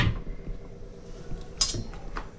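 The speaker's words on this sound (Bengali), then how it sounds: "দিয়ে এখন আমি এটা ঢাকনা দিয়ে দেবো।" A metal lid set down on a cooking pot while chicken yakhni pulao cooks, giving a couple of brief, close clinks and knocks against the rim over a quiet kitchen background.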